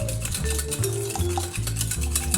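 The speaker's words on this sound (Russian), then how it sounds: "Сейчас я буду тщательно перемешивать это все." Muffin batter with yogurt, sugar and vanillin is stirred thoroughly in a bowl, a continuous close scraping and swishing with a steady low rhythmic churn and faint utensil clinks.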